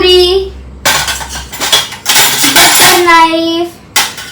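A kitchen knife is handled among dishes and utensils, making a few loud, close metallic clinks and clatters. A voice speaks between them.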